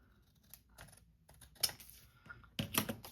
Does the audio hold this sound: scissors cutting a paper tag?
yes